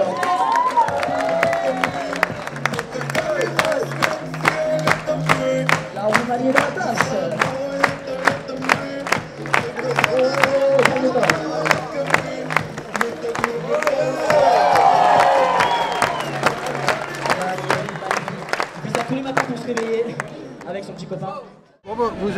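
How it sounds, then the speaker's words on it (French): Live comedy audience applauding and cheering for a performer, loud rhythmic clapping and whoops throughout with someone talking over the crowd, fading out at the end. "On peut l'applaudir bien fort"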